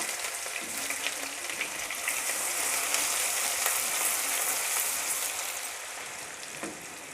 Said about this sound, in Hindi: इसको 1 से 2 मिनट के लिए फ्राई कर लेते हैं।